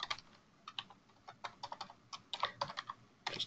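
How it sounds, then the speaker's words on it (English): Close, quiet computer keyboard typing as an email address and password are entered, a quick irregular patter of key clicks with short pauses. "Just type in the email address there and the password."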